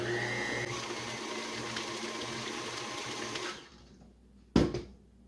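An electric mixer whirs steadily through cake pop batter, a continuous near motor hum that stops abruptly, followed by a single short knock.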